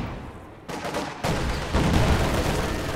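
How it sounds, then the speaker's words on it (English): Gunfire and launch blasts in Company of Heroes 2, the anti-tank rifle grenade in a Soviets versus Wehrmacht OKW heavy armor battle, with sudden loud onsets and dense sustained battle noise. "they did launch that at me, the anti-tank rifle grenade"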